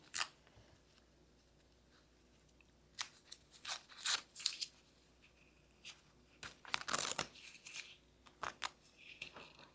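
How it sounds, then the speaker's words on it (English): Paper is torn out of a sewn quilt block for a five-pointed star in soft, close, irregular rips and crinkles, scattered in bursts across a quiet room. "And I did not do a great job of tearing the paper out,"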